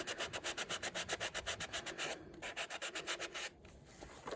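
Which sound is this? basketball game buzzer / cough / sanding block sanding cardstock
sanding block sanding cardstock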